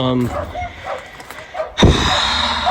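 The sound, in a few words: dogs barking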